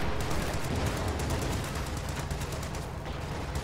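Artillery bombarding a building in a war video game produces a dense, continuous barrage of rapid gunfire cracks and booms, loud and unbroken, with rattling repeated impacts throughout.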